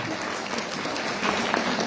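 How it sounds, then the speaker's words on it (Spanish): A room full of people claps steadily at an international education sciences congress, a dense, even burst of applause that swells slightly toward the end. "Aplausos, por favor."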